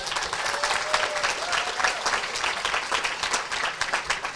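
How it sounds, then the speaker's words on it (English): Audience applause for a newly sworn-in Michigan Supreme Court justice at a diversity conference, a dense, steady wash of many hands clapping throughout, fairly loud and close, with faint voices mixed in. "That deserves a round of applause."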